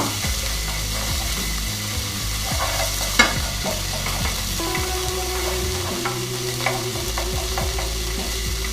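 Anchovies and garlic sizzle steadily in a pan over very low heat, a soft continuous crackle with occasional scraping stirs and small clicks throughout.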